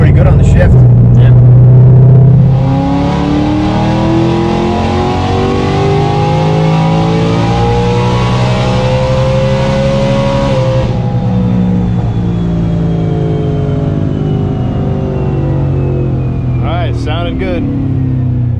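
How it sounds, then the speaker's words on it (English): A 2020 Ford Mustang GT500 with bolt-on upgrades roars loudly on a dyno, its engine revving hard through rising gear pulls for several seconds before winding down, with people talking briefly over it. "we're back for a little more dyno action"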